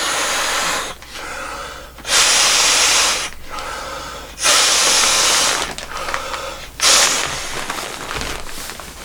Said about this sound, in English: Four strong breaths, that's fully pumped up